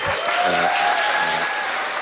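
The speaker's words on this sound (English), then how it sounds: "Merits a round of applause, ladies and gentlemen." A short burst of dense applause from a crowd, loud and even throughout with a faint voice mixed in.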